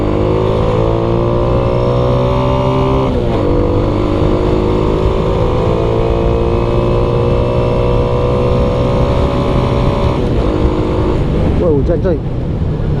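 A Suzuki Shogun SP 125 motorcycle accelerates with a steady, loud engine drone whose pitch rises and resets through gear changes, continuous for the whole stretch.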